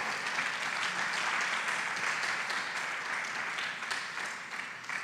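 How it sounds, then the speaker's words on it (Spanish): A church congregation applauds during a Spanish-language sermon, broad continuous clapping that holds steady and tapers slightly at the end. "Denles aplauso al Señor."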